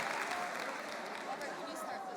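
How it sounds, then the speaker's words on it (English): Audience applause in a hall for debate speakers joining the stage at a scholars' debate showcase, a steady dense wash of clapping with a faint tonal hum, moderately distant and even throughout. "please give a huge round of applause to all of the speakers who are joining us on stage"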